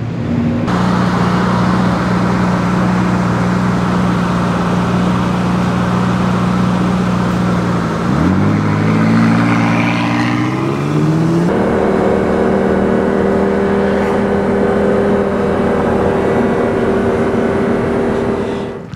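A McLaren 675LT sports car engine runs with a loud, steady drone, then its pitch sweeps upward mid-way as the revs climb, settling into a higher sustained note.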